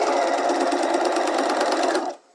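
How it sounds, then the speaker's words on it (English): A sewing machine runs in one steady, loud burst while stitching off the tip of a fabric dart with a shortened stitch length, then stops abruptly near the end with no talking. "now I'm going to stitch, and I'll stitch right off where that dart tip is and keep stitching"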